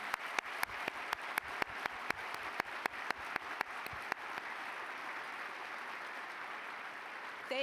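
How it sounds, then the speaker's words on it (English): A morning event audience applauds corporate sponsors, with a few sharp, evenly spaced claps standing out at first over the broad wash of clapping, which carries on steadily for several seconds. "Let's give them a big round of applause."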